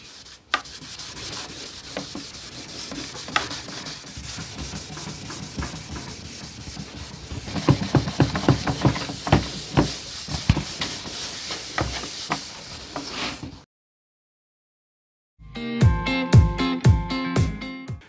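Fine 000 steel wool rubbed over the stained wood of a 1956 Loewe Opta Meteor 1781W radio cabinet, producing a steady close hiss of scrubbing strokes. After a short pause it ends in a burst of rhythmic rubbing.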